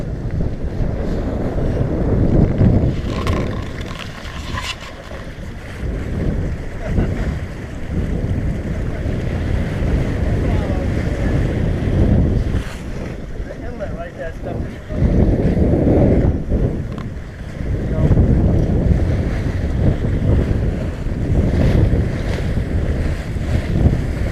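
A sailboat making way at 7-8 knots off the Jersey Shore, with a steady rushing wash of water along the hull and heavy wind buffeting the microphone throughout.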